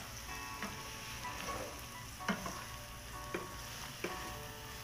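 Sliced onions and chopped garlic frying in a pan for a chicken roast, a soft continuous sizzle with several sharp scrape or tap clicks from stirring, close but fairly quiet, no speech.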